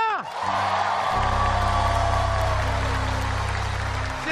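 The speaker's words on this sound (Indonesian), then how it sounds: "Kalau begitu tepuk tangan buat kalian semuanya." An audience at an evening talk show gives loud, sustained applause and cheering, dense crowd noise from start to finish with a steady low hum beneath.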